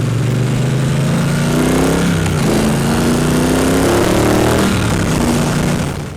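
A Triumph Bonneville Bobber motorcycle accelerates hard through its pea-shooter style exhaust, the engine note climbing in rising sweeps with a brief shift between bursts, loud and close, then easing off at the end.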